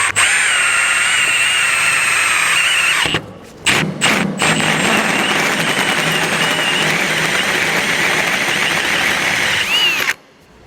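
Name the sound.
hole saw drilling steel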